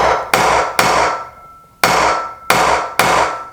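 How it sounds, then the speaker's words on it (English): A hammer tapping a center punch into steel to mark a drill point: five sharp metallic strikes at an uneven pace, each ringing briefly before decaying, close and loud with no talk. "find your perfect center point of your hole and then tap it in."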